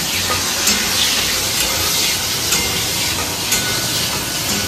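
Food frying in hot oil in a pan, a loud, steady sizzling hiss that continues without a break, with faint crackles scattered through it.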